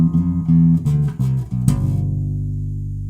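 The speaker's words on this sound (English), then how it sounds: "And then I'll play it on the round wound strings." Guitar with round wound strings played in a short phrase of several plucked notes, then a final strummed chord left to ring out and fade, close and fairly loud, no talking.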